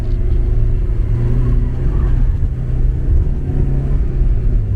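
Stock 1982 Porsche 944 engine droning loud and steady from inside the car while cornering hard, a deep continuous rumble with a faint lift in revs, no speech.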